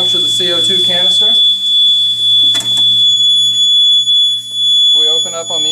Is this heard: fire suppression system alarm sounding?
yes